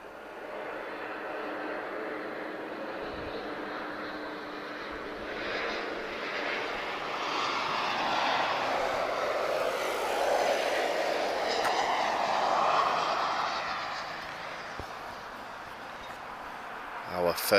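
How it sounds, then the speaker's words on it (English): A TAP Express Embraer E190 jet arriving at Lisbon Airport rumbles and whines as it passes at a distance, swelling to a broad roar midway and then fading, while someone talks over it. "She's an Embraer E190 long range. Beautiful Brazilian designed aircraft. That's TAP Express arriving from Marrakesh."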